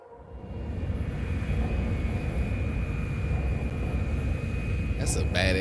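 A presidential plane flies in a Cyberpunk 2077 game trailer, producing a loud, continuous roaring engine rumble that swells in after a quiet start and holds steady, with a brief higher sound near the end.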